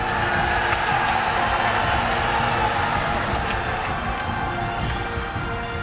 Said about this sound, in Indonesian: kita berikan tepuk tangan yang paling meriah hadirin sekalian